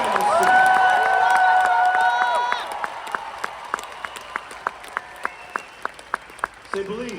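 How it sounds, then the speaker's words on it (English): Church-style audience claps and shouts loudly at a motivational preaching event, a dense crowd roar with whoops giving way to steady rhythmic group clapping, with a voice calling out over it. "Clap your hands and shout way up"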